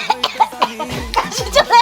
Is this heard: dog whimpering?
no